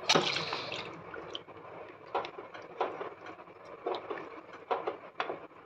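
Water is poured and stirred into an ambila mixture on the stove, giving irregular splashes, sloshes and drips, with a louder splash at the start and wet bursts repeating at close range.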